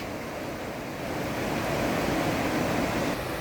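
Steady rushing water from a river running beside a plot of land near Rajakkad, a broad continuous wash that swells slightly partway through, with no voices.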